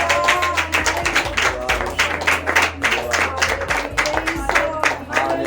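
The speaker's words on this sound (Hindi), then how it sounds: "ताली बजाकर प्रभु को धन्यवाद करें।" A church congregation claps hands in quick rhythmic unison, loud and close, a steady run of sharp claps with a low drone and murmured voices beneath.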